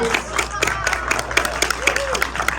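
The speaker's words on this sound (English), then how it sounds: "let's give Nicholas a round of applause" Theatre audience gives a round of applause, dense clapping at steady loudness mixed with crowd noise and some talking over it, filling the whole stretch.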